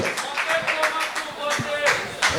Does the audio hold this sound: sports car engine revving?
no